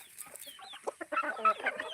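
Hens clucking on a country chicken farm, several birds making short, overlapping clucks and calls at close range with no talking.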